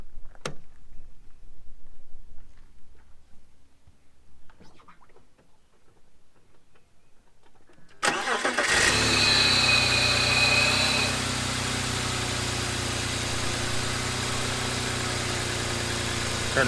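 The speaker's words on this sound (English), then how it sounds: "let's get some actual coolant and let's start the car up." A BMW E39 with a failed thermostat cranks and fires up after a few quiet seconds of faint shuffling, then settles into a steady, close idle with a brief whine as it catches.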